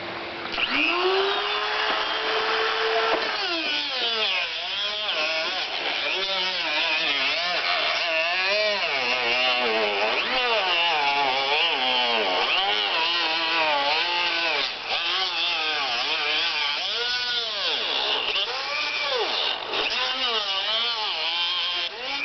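A power tool cuts through the sidewall of a plastic 1.5 inch V-Top drain flange, giving a loud, continuous whining buzz whose pitch keeps wavering up and down as it bites into the material.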